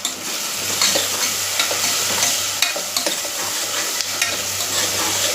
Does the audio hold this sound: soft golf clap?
no